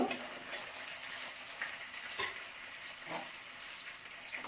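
Prawns stirred into hot oil in a pan for a bhindi and potato curry, giving a steady sizzle broken by a few soft spoon scrapes, close and fairly quiet, with no talk.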